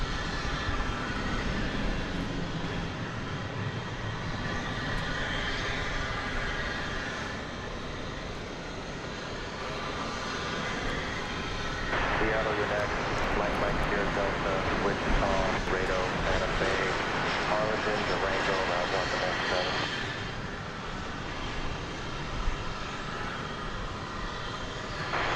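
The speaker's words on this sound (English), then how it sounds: "Japan Airlines Flight 12 coming in from Haneda Airport" A Japan Airlines Boeing 777 jet airliner arriving from Haneda at DFW Airport, a steady broad engine roar that swells in the middle of the clip, with people talking throughout.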